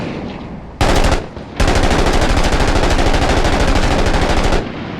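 Long sustained bursts of automatic fire from an M249 SAW light machine gun chambered in 5.56 in a video game, one short burst then a brief pause before a steady unbroken stream lasting several seconds, loud and close.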